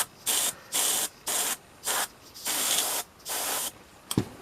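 Short rhythmic bursts of an airbrush spraying Retributor Armour metallic paint on a miniature, about seven hissing pulses evenly spaced with brief pauses, close up, ending with a small clunk.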